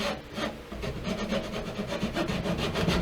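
A hand saw cuts fret slots into the wooden fretboard of a handmade guitar, giving a steady run of close, rasping back-and-forth strokes with no talk.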